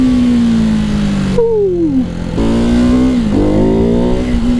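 A Ducati 698 Mono supermoto engine revs hard and pulls, its pitch climbing steeply, dropping briefly on a shift, then rising again, loud and close with no voices.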